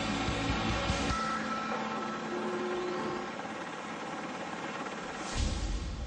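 A navy helicopter roars on the deck of an aircraft carrier at sea, a loud, steady rotor and turbine wash with broadband whooshing that rises at the start and again near the end.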